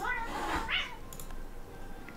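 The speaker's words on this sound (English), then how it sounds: "that's cat fighting for you." Cats yowl and meow in a brief scuffle, a rising high wail standing out over a faint background hum; no one speaks.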